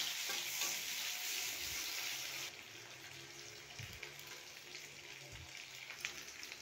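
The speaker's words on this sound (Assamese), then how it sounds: "এতিয়া তেল, পিঁয়াজ, আদা, নহৰু, মছলা যি য'ত আছে চব একেলগে ভাজি ল'ম।" Onion, ginger, garlic and spices frying together in hot oil, giving a steady close broadband sizzle that thins a little partway through, with soft stirring knocks in a kitchen and no talking.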